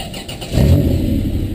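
A VW Baja Bug fitted with a Ford 4.0L V6 engine starting: a brief starter crank, then the engine catches and settles into a low, loud rumbling idle.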